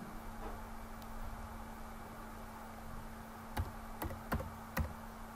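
Computer keyboard typing heard as a few faint, sparse clicks late on, spaced about half a second apart over a low steady hum.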